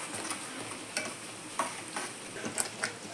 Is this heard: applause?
no